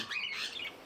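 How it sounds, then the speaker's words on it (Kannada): Pet cockatiels and budgies in a home aviary give a short burst of high, scratchy chirps and squawks, brief and moderately near, with no talk. "ಇದಾದಮೇಲೆ ಪಕ್ಷಿಗಳು ಸರ್. ಇದು ಆಲ್ಬಿನೋ ಕಾಕ್ಟೈಲು, ಇದು ಕಾಕ್ಟೈಲ್ ಫಾನು ಗ್ರೇ ಪರ್ಲು"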